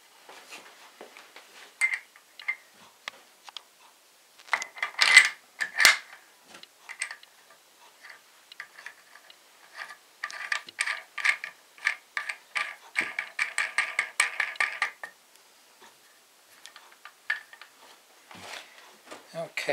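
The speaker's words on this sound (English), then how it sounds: "And here we're getting our three machine screws cinched up tightly." Three machine screws cinched tight on a micro-wind turbine permanent magnet alternator, a close run of quiet ratcheting clicks from a hand tool, with short pauses between bursts.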